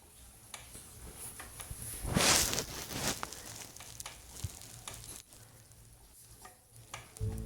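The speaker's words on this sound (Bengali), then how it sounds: "দিয়ে একটুখানি সাঁতলে নিয়ে বা একটু কষিয়ে নিয়ে" Paste of cashew, mustard, poppy seed, white sesame and green chilli sautéing in a pan for a drumstick-flower dish, a soft steady sizzle with a louder burst of stirring, no talking.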